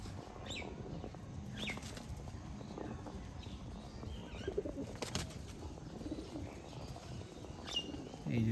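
Pigeons offered for sale in a loft coo softly in a few scattered low calls. The calls sit over faint background rustle and flapping.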